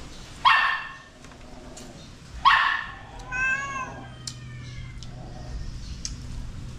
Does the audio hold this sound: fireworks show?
no